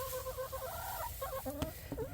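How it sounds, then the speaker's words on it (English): Chickens in a dry, wind-sheltered coop on deep bedding of fall leaves give soft, faint clucks and short calls over quiet background noise. "Now the chickens have been scratching through that and walking over it."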